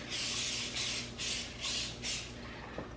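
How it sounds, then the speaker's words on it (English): Four short hissing bursts of cooking spray onto a baking pan in quick succession, fairly close, followed by quiet room tone. "So I'm just going to spray it a little."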